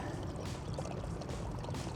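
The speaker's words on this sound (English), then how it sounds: "Oh look, there's a mini waterfall." A small mini waterfall pours steadily, a dense, continuous splashing rush heard up close with no voices.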